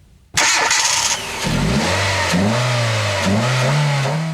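A 2006 Hyundai Accent with a 1.6-litre twin-cam inline-4 fires up, then revs and accelerates through several rising gear pulls, loud and close, with the engine note climbing and dropping between shifts.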